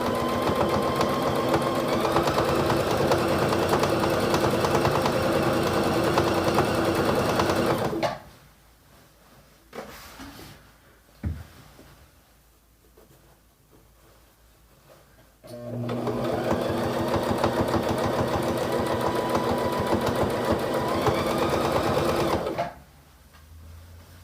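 A sewing machine stitches a zabuton meditation mat in a fast, even mechanical whir. It runs for about eight seconds, stops for a quiet pause with a few soft handling clicks, then starts up again for a second long run.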